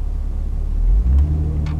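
A 2008 Acura TL automatic accelerating under normal driving, heard from inside as a steady low engine rumble that swells slightly mid-clip, with no talk over it.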